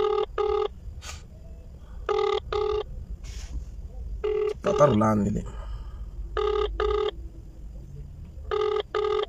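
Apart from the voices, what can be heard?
telephone ringing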